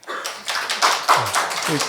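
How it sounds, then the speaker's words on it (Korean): Members of a Korean church congregation clap together at a service, with a quick run of several sharp claps close by and a voice speaking over them. "우리 둔대 교우님들이 자기들이 먼저 박수를 치시네요"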